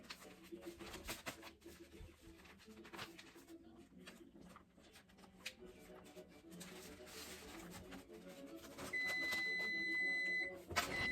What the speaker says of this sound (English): So look at that, my 15-minute timer going off